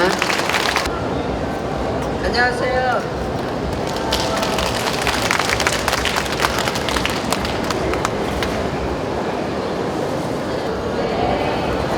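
An audience at a Buddhist culture expo applauds loudly to welcome a Buddhist monk onto the stage, a sustained, crowded clapping that lasts throughout while a voice greets the audience over it.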